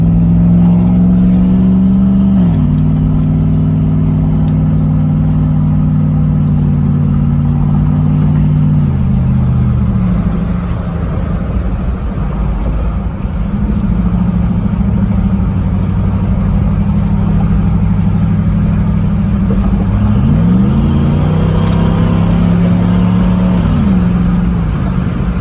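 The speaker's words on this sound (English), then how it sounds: "I'm gonna pull over for y'all and give y'all a few revs, like from a standstill point." A Jeep with a newly fitted aftermarket exhaust idles loud and close at a standstill, its deep rumble rising in several revs, the first near the start and another near the end.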